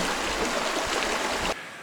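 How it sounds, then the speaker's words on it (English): Water rushes steadily down a rocky wilderness creek beside a waterfall, a loud, close, continuous roar that cuts off abruptly near the end. "Now we're at a waterfall that we didn't know was here"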